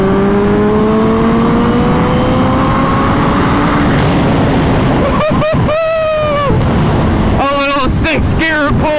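BMW S1000RR motorcycle accelerating with its engine note climbing through the gears, then a rapid string of upshifts, loud and steady amid wind rush.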